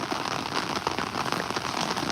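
Steady heavy monsoon-style rain falls on a hard surface, a dense continuous patter of drops with no voices.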